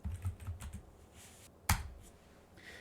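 Command typed on a computer keyboard to launch the GDB debugger, a short burst of close, quiet key clicks ending with one sharper keystroke.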